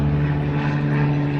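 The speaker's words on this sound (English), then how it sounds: "All these jet skis and boats." Jet skis and motorboats on Lake Allatoona, heard as a loud, continuous engine drone with a steady low hum, close and unbroken, with no talking.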